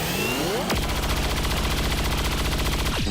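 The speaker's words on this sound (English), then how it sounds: "So I'm just going to shoot the cannon on the grenadier." A heavy cannon fires at a grenadier in the video game XCOM 2, a loud burst followed by rapid repeated booming shots in a steady, dense rhythm for several seconds.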